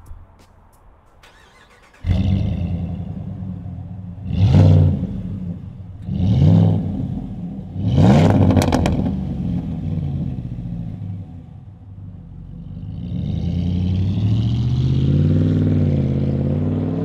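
A 2019 Ram 1500 5.7 Hemi with an MBRP dual exhaust and 4.5-inch stainless dual-wall tips fires up, barks through three sharp revs, then settles into a deep rumbling idle that swells again near the end.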